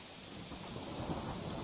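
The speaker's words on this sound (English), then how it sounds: "a storm blew in. Big black clouds rolled across the sky, and the thunder shouted" A thunderstorm with steady rain and a deep rolling rumble of thunder fills the whole short stretch, loud and broadband, with no voices.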